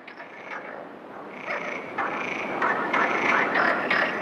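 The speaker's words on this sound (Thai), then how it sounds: "กบกำลังรอคอยแสงแดดเพื่อทำให้ร่างกายอบอุ่นฮอร์โมนของพวกมันเป็นตัวกระตุ้นที่ทำให้พวกมันตื่นเต้นร้องเพลงและต่อสู้เพื่อสิทธิ์ที่ถูกต้องเนื้อสระน้ำ" Frogs croak in a forest pond on the Iberian Peninsula in spring, several overlapping rasping calls building in loudness over quiet background, close and without voices.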